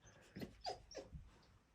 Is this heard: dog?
yes